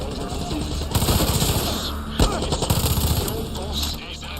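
Rapid automatic gunfire rattles in bursts with a sharp blast midway during a Far Cry 6 firefight, loud and close, with a voice talking over part of it.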